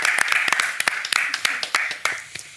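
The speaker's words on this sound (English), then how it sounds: "So big round of applause to you guys. Give yourselves a round of applause." Students at an open house give a burst of applause, a close and lively patter of many hands clapping that gradually thins out, with voices talking over it.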